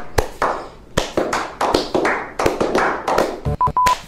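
A single pair of hands claps in a loose, uneven series of sharp, close, loud smacks, with brief electronic beeps near the end.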